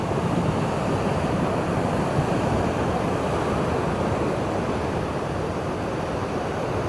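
Sea waves wash onto an eroding beach in Zambales, a loud, steady broadband surf roar mixed with wind buffeting, continuous throughout with no voices.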